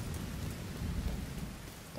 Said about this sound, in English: It is raining and I do not like rain.